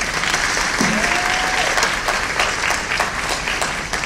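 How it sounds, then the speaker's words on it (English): Loud, close applause from an audience welcoming a speaker at a Greek 101 panel, a thick sustained clapping with a brief whoop or cheer rising early on. "Please give a warm round of applause for Mr."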